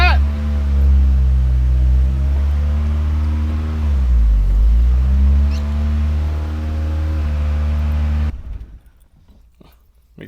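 An old Italian sports car idles in a shop with a deep, steady engine drone, dipping briefly in pitch before cutting off abruptly near the end, leaving a quiet room with faint clatter.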